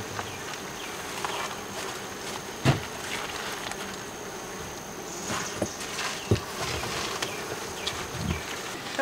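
Honey bees buzzing in a bee yard, a steady close swarm hum with occasional louder passes and faint knocks.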